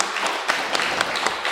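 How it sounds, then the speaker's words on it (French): Audience applause at a live podcast show during a festival in Rennes, a short burst of crowd clapping with scattered louder claps standing out, fairly close and steady throughout. "On peut l'applaudir encore une fois."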